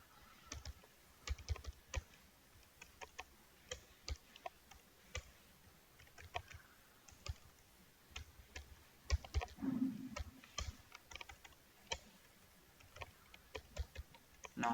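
Rapid keystrokes on a computer keyboard while typing text into HTML code, a steady run of close, light clicks with irregular rhythm and occasional louder taps, no talking.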